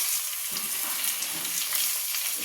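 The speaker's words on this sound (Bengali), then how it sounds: "পেঁয়াজটা ভেজে নিয়ে তারপরে মশলাগুলো দিয়ে দেবো" Onion frying in oil in a pan for a curry, a steady bright hiss of sizzling with faint soft stirring underneath, no voices.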